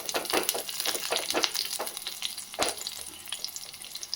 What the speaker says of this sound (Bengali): প্রথমে একটু ঘিয়ে লঙ্কাগুলোই প্রথমে দিয়ে দিয়েছি, এগুলো একটু ভাজা ভাজা